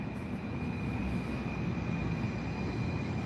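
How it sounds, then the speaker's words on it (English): Two trains drawing near at once at night, a continuous broad rumble and rail whine that holds steady throughout, heard from beside the tracks with no talking. "Oh, we got two trains coming at the same time."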